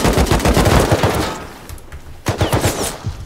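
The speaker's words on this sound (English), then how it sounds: "Okay, you shooting over there." Automatic rifle fire from an AK in the survival video game Rust crackles in rapid loud bursts, breaks off into a short lull, then erupts again in another string of sharp shots.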